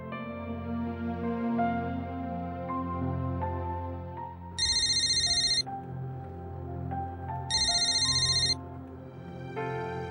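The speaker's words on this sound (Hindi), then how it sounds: "आदित्य बेटा, जरा फोन करके तो पूछ लो कि वो लोग कब तक पहुंच रहे हैं।" A telephone ringtone plays while a call is placed, two bright electronic ringing bursts about three seconds apart, heard over a steady television drama music bed with no talk.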